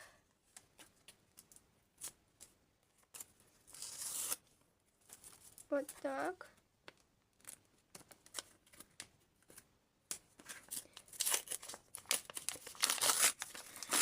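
Crinkly rustling of a plastic bag being handled in bursts, close and crisp, with a few brief spoken words.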